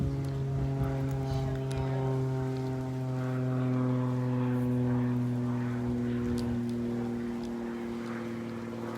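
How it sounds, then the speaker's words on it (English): A steady, droning propeller plane passes overhead, its low humming tones swelling slightly midway before easing off, continuous throughout. "You can hear a plane going up overhead."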